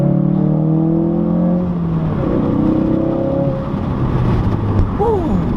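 A 2017 Ford Focus RS accelerating hard, loud engine revving that rises in pitch through the gears with a brief shift dip, heard from inside the car over heavy road and wind roar.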